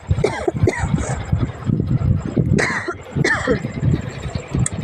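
A person coughs at home in several rough bursts, with two sharper coughs near the middle, heard up close over steady fan-like background noise.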